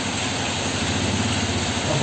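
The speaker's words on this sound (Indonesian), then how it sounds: "Ada motor lewat." A motorbike rolls past a house, its engine a steady, fairly loud hum that holds throughout with no clear rise or fall.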